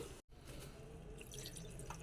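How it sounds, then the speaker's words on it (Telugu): Water is poured into a pot of ladies finger pulusu cooking with tamarind juice, heard as a faint, quiet splashing trickle that runs on after a brief cut in the sound. "మళ్ళీ కొన్ని వాటర్ కూడా పోసుకుందాం, ఇది పుల్లగా ఉంటుంది కదా."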